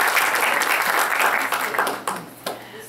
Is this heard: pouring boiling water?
no